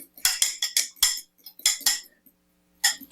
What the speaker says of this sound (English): beat the eggs